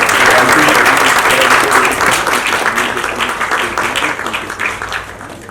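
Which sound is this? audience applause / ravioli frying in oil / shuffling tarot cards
audience applause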